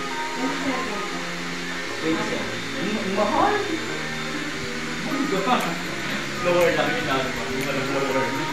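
A hair dryer blows steadily on freshly washed hair in an apartment, its continuous whirring hum running under nearby talk.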